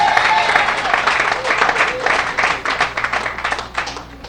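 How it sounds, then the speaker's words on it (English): A crowd of workers at a Freeport, Bahamas gathering breaks into applause, dense clapping that holds steady and then thins into more scattered claps toward the end. "You ought to give yourselves"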